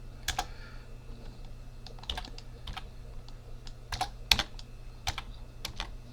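Scattered key presses entering numbers on a calculator, sharp isolated taps spaced unevenly over a low steady hum, close and fairly quiet with no speech.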